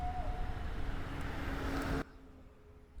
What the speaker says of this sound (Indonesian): di belakang masih tetap banyak suara mobil lewat